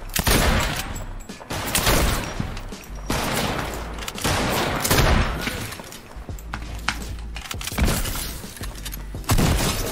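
Rapid rifle shots from a lever action rifle in Fortnite during a hectic fight, crackling bursts repeating every second or two over a dense, loud bed of game noise and impacts, with no talking.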